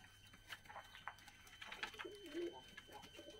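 Fighting pigeons in Georgia give soft, low cooing calls, with one clearer coo near the end. The calls are faint and sit among other quiet background sounds.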